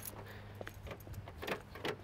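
A set of car keys for a 1988 Oldsmobile Cutlass Ciera jangles in short metallic bursts over about two seconds, close and moderately loud, with faint low engine or road hum underneath.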